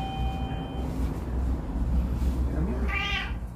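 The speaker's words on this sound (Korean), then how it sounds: "서러운 고양이 있고 여기" A former street cat, now two years an indoor pet, gives a short meow near the end, heard over steady low background noise.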